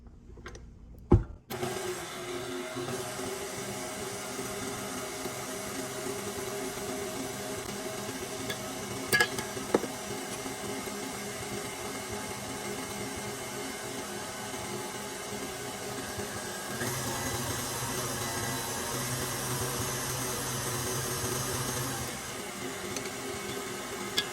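Electric mixer beating egg yolks one at a time into sponge cake batter, a steady continuous whir with a brief clatter near the start and a louder, brighter stretch later on.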